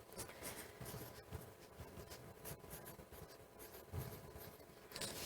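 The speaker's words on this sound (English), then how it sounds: "Write down your process." A pencil writes out a math process on paper, producing faint, close scratchy strokes in quick irregular bursts with no voices over them.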